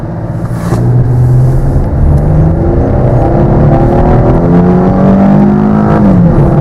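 A 2006–2010 Dodge Charger with a 2.7-liter V6 and automatic transmission revs and accelerates loudly up through the gears, the pitch climbing and dropping with each shift, close and steady throughout.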